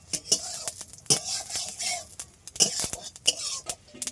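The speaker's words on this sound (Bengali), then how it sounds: "একটু ঘেটে দেব।" Rohu fish curry stirred in a pan with a metal spoon: sharp scraping and clinking strokes in an irregular rhythm over a faint sizzle, close and moderately loud.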